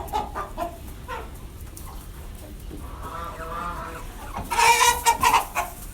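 Chickens and a little bantam rooster cluck softly in a winter coop, scattered low calls building to a louder burst of clucking near the end.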